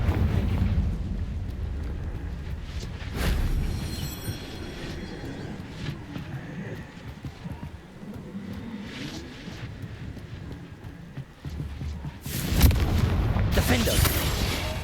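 Spell blasts from the Confringo explosion spell in Hogwarts Legacy, a loud burst near the start and another near the end, with rumbling booms and crackling battle noise in between.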